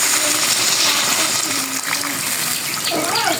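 Water pours into a curry in a cooking pot, making a loud, continuous gushing splash that runs for several seconds, close up, with a bubbling shift near the end.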